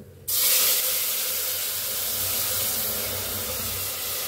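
Water poured into a hot pressure cooker holding ghee, cumin and bay leaf, bursting into a sudden loud hiss of steam that holds steady before cutting off.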